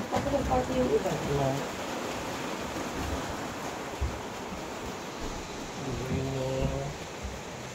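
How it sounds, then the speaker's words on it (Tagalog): Heavy rain pours in Baguio City as a steady, close wash of noise that fills the whole stretch, with people's voices briefly rising over it near the start and again near the end. "Ang lakas ang ulan dito ngayon."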